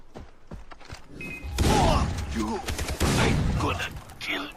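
Shotgun blasts in the video game Far Cry 3 during a radio tower assault: two heavy, booming shots about a second and a half apart, loud and close, with smaller clicks and game noise between them.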